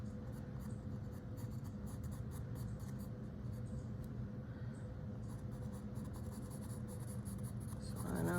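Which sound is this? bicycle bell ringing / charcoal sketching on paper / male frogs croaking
charcoal sketching on paper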